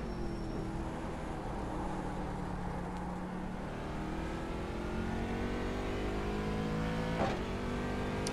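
Race car engine lapping Daytona in a racing video game, a steady loud drone with rising harmonic tones as it accelerates along the track, running continuously without talk.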